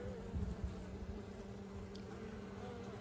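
Honeybees in a 24-frame Layens horizontal hive opened for inspection, a soft steady buzzing hum from many bees held close throughout.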